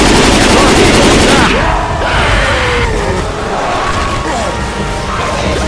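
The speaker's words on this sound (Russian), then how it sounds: "Классный выстрел!" Rapid gunfire and crashing impacts in the zombie shooter Left 4 Dead 2, loud and dense throughout, with bursts of shots over chaotic game noise and faint voices.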